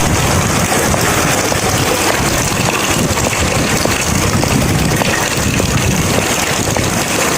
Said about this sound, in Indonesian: Busnya udah datang tuh.